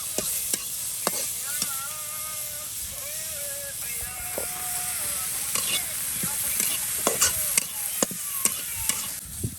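Bottle gourd frying in oil as it is stirred, a constant hissing sizzle punctuated by quick clinks and scrapes of the utensil against the pan, close, with faint tonal background sounds.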